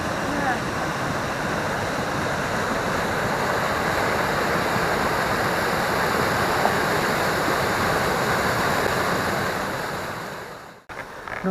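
A river flowing in Monsal Dale, a loud continuous rush of water heard up close, steady throughout before a brief disturbance near the end.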